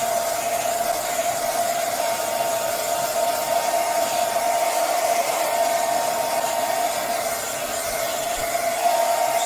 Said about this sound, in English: Get the air dryer in again for a bit. So now this is just drying the fur.